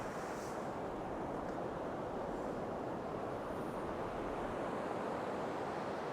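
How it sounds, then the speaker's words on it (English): Sea waves at the shore at Sutton On Sea, a continuous broadband wash of surf with steady rumbling and hiss, fairly faint and distant, mixed with some wind noise and no voices. "I'm pretty sure that's waves"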